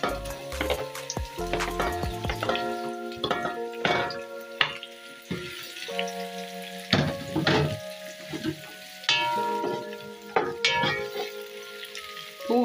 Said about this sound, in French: Là, nous allons commencer par blanchir nos oignons légèrement.